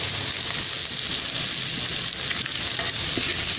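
Garlic, onion and ginger sizzle steadily in hot oil for adobo, a loud, dense, continuous crackle like heavy rain, with no talk over it.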